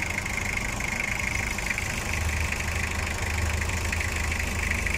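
A Toyota 2L diesel engine, freshly top-overhauled after overheating, idles with a steady, even low rumble and a constant mechanical hum, close and unbroken.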